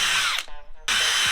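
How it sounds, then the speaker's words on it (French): Power drill boring a hole through a wooden drawer frame to start a jigsaw cut: a loud, steady whine breaks off briefly, then picks straight back up, close and alone. "On vient percer après l'encadrement pour faire passer la scie sauteuse."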